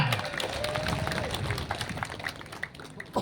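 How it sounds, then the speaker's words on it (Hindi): Applause from a crowd at a protest rally, a fairly faint, diffuse spread of clapping and crowd noise at a distance with no clear voices. "हम सब मोन्या न्योरी के लिए एक बार जोर से तालियां"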